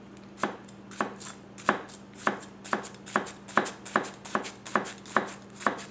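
A Masakage Yuki 270 gyuto knife slices through food onto a cutting board in steady, evenly spaced strokes, about a dozen crisp, close knocks in a regular rhythm with no talking.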